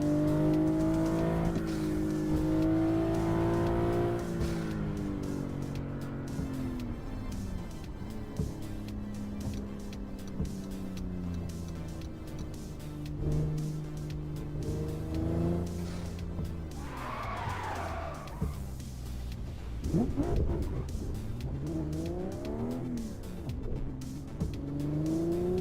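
Racing car engine from the PC sim Assetto Corsa, revving and shifting through gears with rising and falling tones, loud and continuous, with brief tire squeal near the end.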